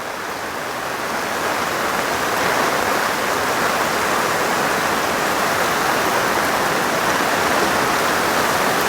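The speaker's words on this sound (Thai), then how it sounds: "ฝนตกแล้ว" Heavy rain pouring during a storm, a dense steady hiss that builds in the first couple of seconds and then holds loud and constant, with no talk.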